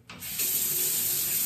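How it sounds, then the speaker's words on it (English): A bathroom sink faucet turns on with a brief hiss, then runs in a steady, close, loud stream of water that fills the sink for the rest of the moment, with no voices. "You can turn the knobs to make the sink colder or hotter, and it's full of water, right?"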